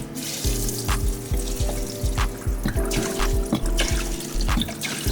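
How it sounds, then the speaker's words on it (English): Water poured into an ADJ Entour Ice fog machine's reservoir, a steady splashing, trickling pour close by, with hollow resonant gurgles pulsing rhythmically throughout. "So let's go ahead and pour the rest of this water in."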